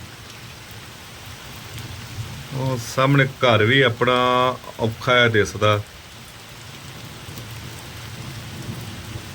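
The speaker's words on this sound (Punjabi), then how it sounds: "ਬਾਰਿਸ਼ ਵੀ ਬਹੁਤ ਜ਼ਿਆਦਾ ਹੈਵੀ ਪੈਂਦੀ ਪਈ" Heavy rain pours down during a thunderstorm, a steady broadband hiss running through the whole stretch, while a person talks loudly over it for a few seconds in the middle.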